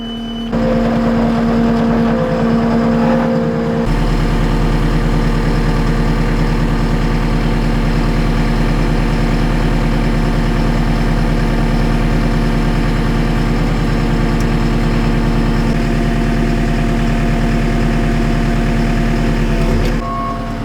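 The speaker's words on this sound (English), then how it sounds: "I'm going to get the skid steer out" A skid steer loader fitted with a 15-foot boom idles loudly and steadily close by for a long stretch, with a deep rumbling drone, a faint whine layered over it and a brief change in tone near the start.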